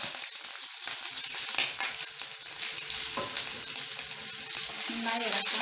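Green chilies and curry leaves, added after chopped garlic, sizzle and crackle steadily in hot oil on a very low flame for mango pickle, with stirring noises throughout and no talking.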